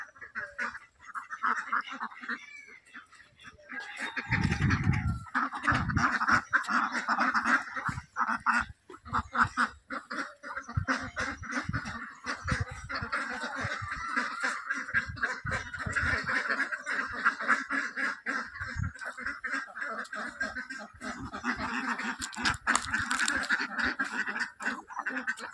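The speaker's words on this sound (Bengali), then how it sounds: "এইখানে সেসব চড়ে হাঁসগুলো" Ducks quack repeatedly around a garden pond, a busy overlapping chorus of calls that continues steadily throughout, fairly close and loud, with no talking.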